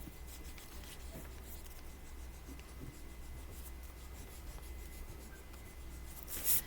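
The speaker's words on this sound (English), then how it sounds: "I'm going to erase those few little pencil lines I can still see right there." An eraser rubs out pencil lines on paper, making a steady, close scratchy friction that runs unbroken for several seconds, with a brief louder rustle at the end and no talking.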